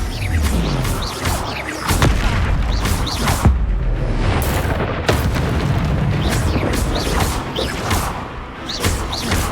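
Spell explosions in a Hogwarts video game: repeated heavy booms and bursts layered over dense rumbling and mechanical clatter, loud and continuous with sharp blasts recurring every second or two.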